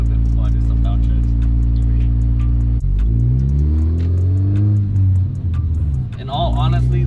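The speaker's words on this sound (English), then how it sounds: "I let the car warm up a little bit before I do some downshifts." A 10th-gen Honda Civic Si engine idles low and steady, then revs sharply during downshifts, its pitch sweeping up and falling back, loud and close, with a voice partly heard over it.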